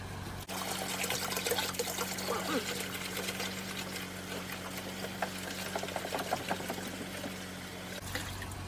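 Steady trickling of water poured continuously into a bucket of coolant, with a low constant hum underneath throughout.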